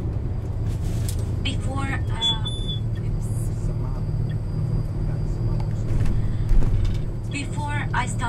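Street traffic rumbles steadily during a drive through Port Said, Egypt, with engine drone and passing vehicles beneath someone talking over it.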